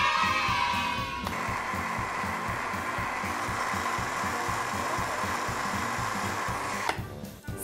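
Electric blender blending pumpkin in a home kitchen: a steady motor whir starts abruptly after a second, runs evenly for nearly six seconds, then cuts off.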